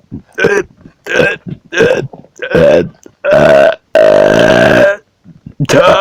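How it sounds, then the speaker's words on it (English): A man lets out a series of loud, close burps, several short ones followed by two long drawn-out belches and another short one at the end, with no talking. "Toxic burp."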